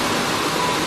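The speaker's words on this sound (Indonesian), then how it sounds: "Air terjun di pinggir laut." A waterfall beside the sea on Roon Island in Papua pours as a steady, broad hiss of rushing water, close and unbroken for a brief moment.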